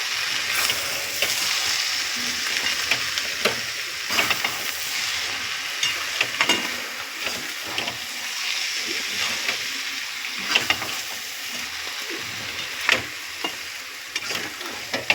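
Katla fish head and cabbage curry stirred in a pan, with a steady hiss and sizzle and scattered scraping spoon strokes throughout, close and moderately loud, no talking.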